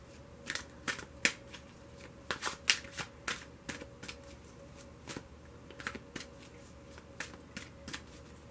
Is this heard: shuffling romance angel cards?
yes